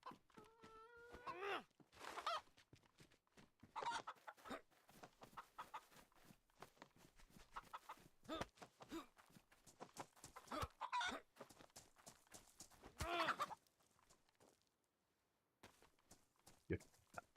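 A chicken in the video game DayZ clucks in short, scattered bursts, quiet and intermittent, mixed with soft footsteps and shuffling movement.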